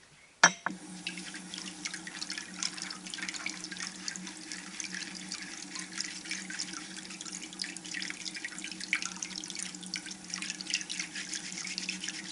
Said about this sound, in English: Okay, so my bucket is full now.